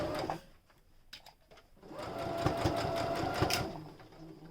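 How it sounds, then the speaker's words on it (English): Sewing machine running a straight stitch on a fabric face mask, close and moderately quiet, a short burst, a pause, then a longer steady run of rapid needle clatter. "I'm going to do a straight stitch to get it down"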